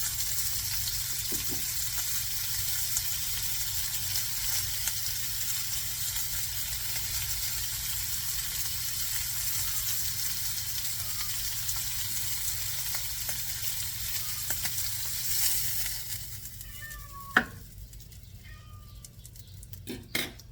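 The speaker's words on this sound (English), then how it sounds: "You don't use a low flame when you're searing, because you want to seal it very, very fast." Beef bone-in shanks searing in hot oil over a high flame, a steady loud sizzle that runs throughout, with a few clinks and knocks near the end.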